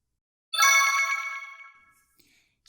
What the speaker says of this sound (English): We also had the interns set up these cool little buttons that make noises when we press them.